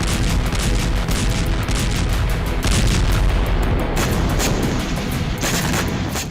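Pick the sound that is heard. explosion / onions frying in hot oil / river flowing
explosion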